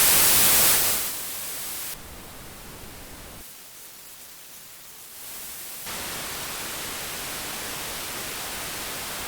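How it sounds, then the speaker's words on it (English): Broadband hiss from a noise generator plugin, white noise output, steady and loud at first, then dropping and shifting in tone as settings change, continuing as a constant wash. "One is a noise generator."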